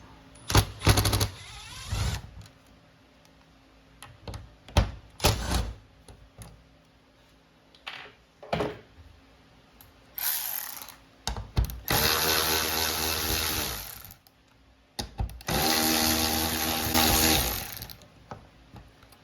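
Bolts and screws being removed from a garage door roller bracket with a power tool: several short bursts of ratcheting clicks and ticks, then two longer whirring runs of the driver, close and fairly loud.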